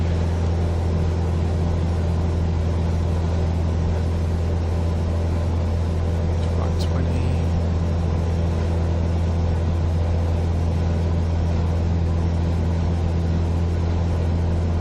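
Cessna 172 engine throttled back to reduced power in cruise, a steady loud droning hum with a constant low tone and no break throughout, without voices.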